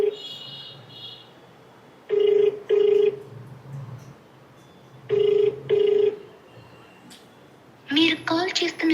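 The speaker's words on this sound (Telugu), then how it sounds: "ఫోన్ రింగ్ అవుతుంది, లిఫ్ట్ చేయట్లా." A telephone rings out unanswered, with repeated paired ring bursts spaced by pauses and a voice talking between and after the rings.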